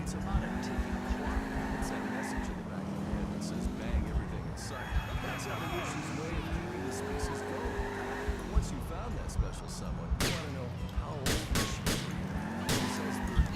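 Car engines roar and tires screech during a chase in Grand Theft Auto IV, with sharp shots fired at a fleeing car's tires and someone talking over the action.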